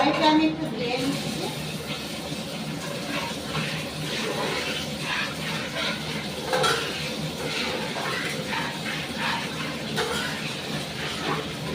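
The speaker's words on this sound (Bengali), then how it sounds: "কড়াইটা আমি একটু ধুয়ে নিচ্ছি।" A karai wok is rinsed after cooking: running water splashes steadily while the metal pan clanks and scrapes close by in a continuous wash.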